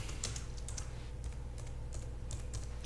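Computer keyboard typing as a web address is entered on Linux Mint, a quick run of light, close clicks in uneven bursts over quiet room hiss, with no talking.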